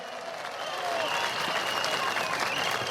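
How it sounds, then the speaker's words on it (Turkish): A crowd at a CHP political rally in a public square in Bayburt bursts into applause, swelling quickly to loud, sustained clapping and cheering that continues without speech. "Kuvvetli alkışlarımızla onu selamlayalım."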